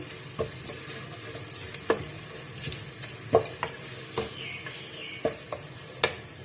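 Cinnamon, black cardamom and white cumin crackle and sizzle in hot oil. Soft frying hiss runs throughout, broken by irregular pops and the scrape of stirring.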